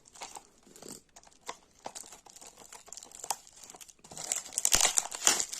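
Plastic shrink-wrap foil crinkling and tearing as it is peeled off an EA Sports FC 24 game box, close and crisp, with scattered rustles building into a louder crumpling burst near the end.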